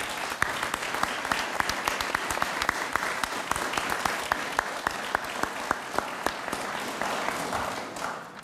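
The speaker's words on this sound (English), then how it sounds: "Arthur FLUG deserves a rousing round of applause" Audience at a Holocaust resource center opening ceremony gives a sustained round of applause, dense and even clapping with distinct individual claps standing out, holding steady before tapering off.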